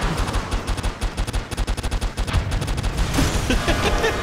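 Rocket explosions in The Binding of Isaac: Repentance go off in a dense, loud barrage of rapid blasts and crackling bursts, one after another for several seconds with hardly a pause.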